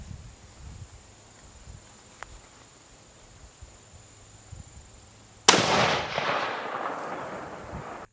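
A .300 Win Mag rifle fired into a 10-inch hickory board: one sharp, loud report after a quiet stretch, followed by a long rolling echo that slowly fades.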